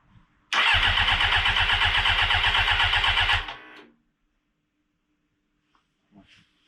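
A 1996 Suzuki GSX-R 750 SRAD track bike cranks and fires, running loud and close for about three seconds with a pulsing beat before cutting out, followed by quiet and a faint brief noise.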